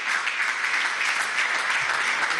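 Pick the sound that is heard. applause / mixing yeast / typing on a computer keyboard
applause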